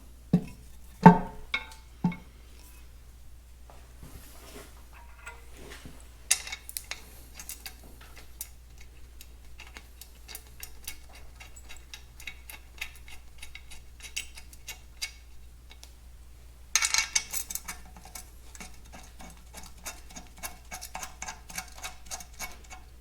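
Work on the transmission top cover of a Minneapolis-Moline 445 prototype tractor: scattered metallic clicks and short ratcheting bursts of bolts being run down, over a low steady hum in a quiet shop.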